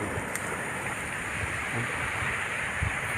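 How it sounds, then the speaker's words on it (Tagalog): Large sea waves on a coast where fishing boats have been pulled ashore, a steady broadband rushing roar with some wind buffeting on the microphone and no voices. "napakalaki po ng alon dito sa amin"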